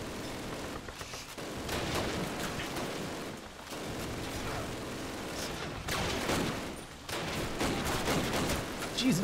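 Enemy gunfire in the World War II shooter Call of Duty: United Offensive, dense bursts of automatic fire crackling continuously with brief lulls, loud and close throughout.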